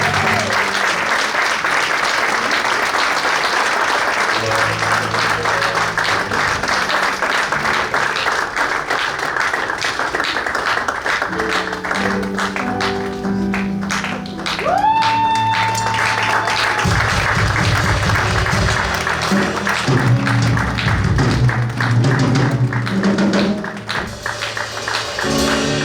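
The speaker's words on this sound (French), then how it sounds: "Sous vos applaudissements, veuillez recevoir avec honneur Monsieur Symphorien Balandaï." Sustained audience applause at an art exhibition opening, dense and steady for most of the stretch, with a short musical swell partway through before it tapers at the end.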